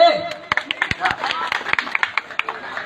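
Scattered, uneven hand claps from an audience ring out as a string of sharp, near snaps over a steady background of voices and chatter.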